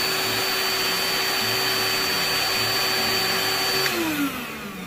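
A Milwaukee M12 DE universal dust extractor vacuum runs with a steady, loud whine and airy roar, then begins to spin down near the end as its pitch falls.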